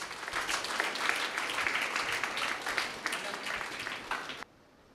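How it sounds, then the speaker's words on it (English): Applause from an audience at an anniversary celebration at a dental college, steady clapping for about four seconds that cuts off abruptly. "I request everybody to kindly give him a huge round of applause."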